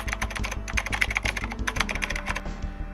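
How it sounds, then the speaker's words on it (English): Rapid clacking keystrokes on a computer keyboard in Batman's back-computer setup, a dense burst of close typing for a couple of seconds before it trails off. "he hits some things on the keyboard."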